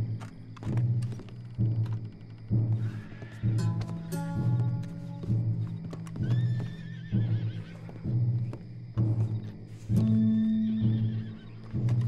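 Horses in the Red Dead Redemption 2 video game whinny and snort again and again over a low, steady rumble, with regular bursts and hoofbeat-like thuds spread across the scene, close and fairly loud, with no speech.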